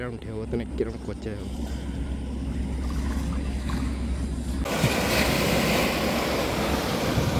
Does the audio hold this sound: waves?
yes